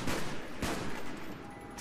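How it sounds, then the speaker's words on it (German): A few quick bursts of video game gunfire from Black Ops 1 Zombies, fairly faint, with sharp cracks spaced apart over a steady background. "Mach mal zwei Schüsse auf einmal."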